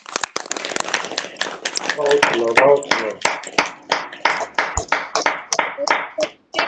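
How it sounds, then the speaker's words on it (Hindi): An audience at a daily yoga session claps in a steady rhythm, the crisp claps growing louder and continuing under a man's speech. "ताली बजा दो एक बार, ताली।"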